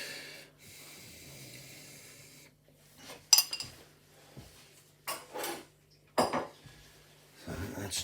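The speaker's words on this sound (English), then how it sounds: "what we want to do is just give that a little stir around" Char siu pork being stirred in sauce in a pan on a plug-in hob, giving a few brief scraping and clinking utensil sounds against the pan between quiet stretches with a low steady hum underneath.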